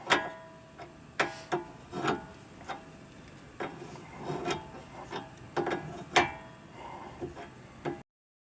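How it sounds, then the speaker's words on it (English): Ratchet tightening a tie-rod nut on a 2008 or later Nissan Rogue, scattered close metallic clicks and knocks at an uneven pace, with brief rubbing scrapes between strokes. "We're going to go ahead and tighten down this nut"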